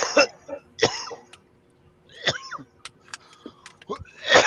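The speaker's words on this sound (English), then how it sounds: "you gotta learn to mute your mic when you coughing like that" Several harsh coughs and throat-clearing bursts, close to the microphone, separated by short pauses with faint background hum.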